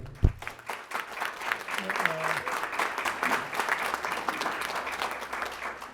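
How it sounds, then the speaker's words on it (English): Audience applause at a public mental health announcement by county and city officials, a steady spread of clapping hands sustained for several seconds, moderately loud and full, with a brief sharp knock at the start. "we all ought to applaud them right now"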